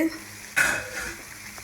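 Horse gram curry (kollu kuzhambu) boils in a pot, with a brief burst of bubbling hiss that fades into quiet simmering.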